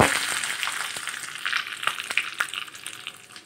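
Hot mustard-seed tempering is poured into rava uttapam batter, giving a close, soft sizzle with scattered sharp crackles and spatters that grow busier toward the end.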